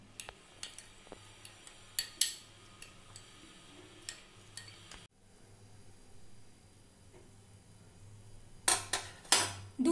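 A spoon clinks against a bowl while cornflour is stirred into milk, giving light, irregular ticking taps. A quieter gap follows before a few louder, brisk clatters close it out.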